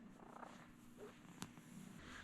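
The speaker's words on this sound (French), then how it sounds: "Ah oui, là, il ronronne." House cat purring softly up close, a low steady rumble with faint breathy cycles, plus a brief sharp click partway through against quiet room background.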